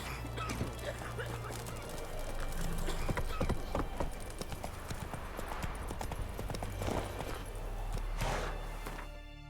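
A horse gallops in The Witcher 3 with rhythmic clip-clop hoofbeats over several seconds and a brief neigh, against a game background with no talk.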